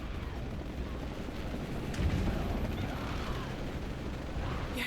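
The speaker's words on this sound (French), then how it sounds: "More helicopters." Helicopters in the Shadow of the Tomb Raider video game rumble on as a dense, continuous low roar mixed with game noise, with a short burst near the middle and no clear talk.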